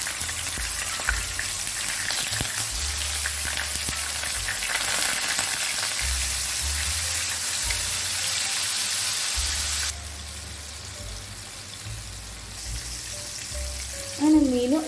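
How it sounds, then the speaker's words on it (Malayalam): Pieces of king fish fry in hot oil with curry leaves, giving off a loud, dense crackling sizzle that persists throughout, with softer spattering later and a brief clatter near the end. "ഫിഷ് ഓരോന്നായിട്ട് നമുക്ക് പൊരിച്ചെടുക്കാം."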